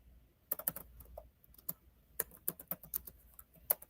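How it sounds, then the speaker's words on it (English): Computer keyboard typing in short irregular bursts of crisp clicks, close and fairly quiet, with pauses between runs and no voices. "Let me type that in."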